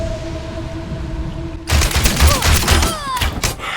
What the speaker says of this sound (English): Listen to his storm arrow.